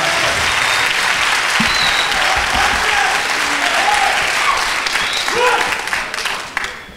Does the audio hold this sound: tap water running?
no